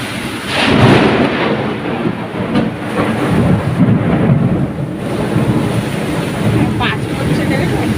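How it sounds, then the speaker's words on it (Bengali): Heavy rain roars steadily while loud thunder rumbles and rolls through it in deep, sustained surges, close and powerful, with no clear speech. "কত জোরে জোরে বাজ পড়ছে আমাদের এখানে"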